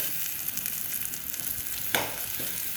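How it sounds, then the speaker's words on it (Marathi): Onion, garlic, chili, salt and turmeric frying in a pan, a steady close sizzle with one brief stirring scrape partway through, no voices. "ते थोडं 2 मिनिटं परतून घेऊ।"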